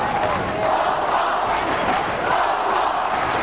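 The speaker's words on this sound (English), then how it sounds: "The crowd chant." A large arena crowd at a world super featherweight title boxing match roars and chants continuously, a dense loud wall of voices swelling slightly and holding steady throughout.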